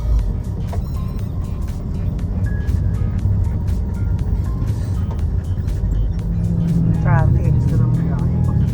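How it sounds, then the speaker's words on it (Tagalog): Steady road traffic rumbles around a vehicle on a joy ride through congested streets, a dense continuous wash of engine and tyre noise with a brief horn-like tone and faint voices under it. "Traffic."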